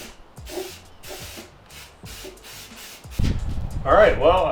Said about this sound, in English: I'm such a terrible spray painter.